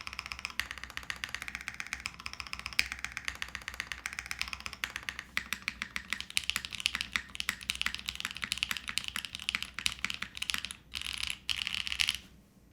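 Rapid, steady typing on a Vanguard65 mechanical keyboard, a 65% board with a slider and knob, built with extra softening underneath. Dense clacky keystrokes run continuously at close range with no talking, thinning into short pauses near the end.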